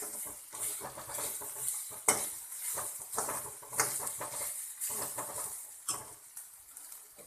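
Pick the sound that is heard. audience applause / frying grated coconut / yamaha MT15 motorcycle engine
frying grated coconut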